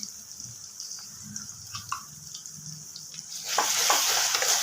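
Spices sizzle and crackle in a hot pan for a chicken dish, with faint stirring at first before a louder, steady frying hiss rises near the end.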